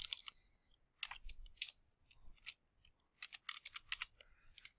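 Quiet, close typing on a computer keyboard into a library catalog search field, irregular clusters of light key clicks with brief gaps, no voices.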